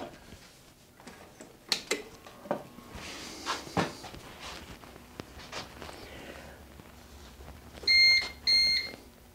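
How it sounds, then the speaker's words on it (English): Battery backup unit for a Starlink internet system switching over to battery power, giving two short high electronic beeps near the end, after soft clicks and handling noises. "I heard a very slight little beep in there"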